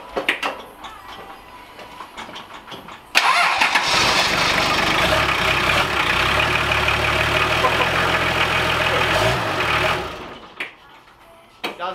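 A turbocharged Toyota 2H diesel in a 60-series Land Cruiser cranks and fires, then runs loud and steady with a rough diesel clatter for several seconds before shutting off.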